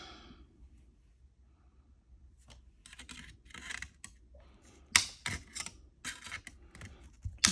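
Needle nose pliers cutting and snapping a Dollar Tree plastic bowl ornament, giving sharp irregular clicks and cracks in quick clusters, close and fairly quiet.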